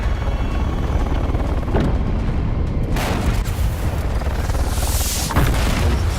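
Gunfire and booming blasts in Dune Awakening combat on Arrakis, a loud continuous rumble of impacts with a few sharper bursts standing out.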